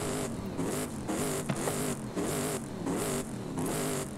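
Toyota Tundra TRD Pro pickup with a 6.7L V8 diesel, its engine revving in repeated bursts of about half a second with steady idle between, loud and close, with no talk over it.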